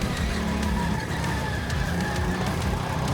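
Indoor go-kart engine droning steadily on a track, a loud constant motor hum with faint tire scrub and squeal throughout, no talking.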